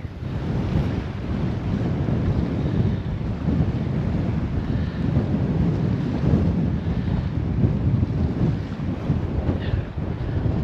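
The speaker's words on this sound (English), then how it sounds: "That wind ain't letting up at all." Strong wind gusts against the microphone at a waterside fishing spot, a continuous rough rumbling roar with no pauses for the whole stretch.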